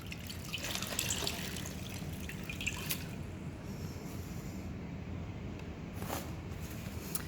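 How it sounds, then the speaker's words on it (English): Water rinsing a pink clay face mask off skin: a soft, continuous close trickle and splashing with occasional drips, no speech. "I'm going to rinse that mask and I'm going to give it a second cleanse."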